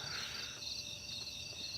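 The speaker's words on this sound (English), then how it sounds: "Get the crickets." Crickets chirp outdoors at night in Ohio, a steady high trill running through the whole stretch. It stays quiet and even, with a soft breeze underneath and no voices.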